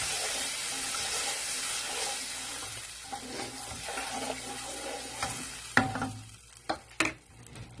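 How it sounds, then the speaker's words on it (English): A spoon stirs tomato-paste sauce with added water in a pan, giving a quiet sizzling and bubbling wash with a few sharp scrapes and clinks toward the end. "Give that a little stir."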